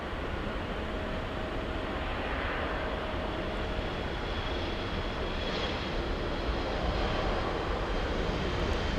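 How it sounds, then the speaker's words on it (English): A Philippine Airlines Boeing 777 on final approach at LAX gives a steady, broad jet-engine roar, heard from a distance and holding level throughout with no voices. "Triple seven on final approach."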